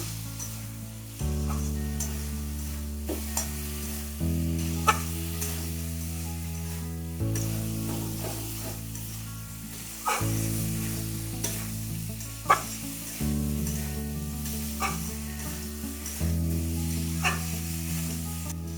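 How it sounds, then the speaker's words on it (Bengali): Fish curry sizzling and frying in a pan while a utensil stirs it, with steady hissing and repeated scraping strokes about every few seconds, close and continuous with no talking. "অল্প নাড়িয়ে দেবো।"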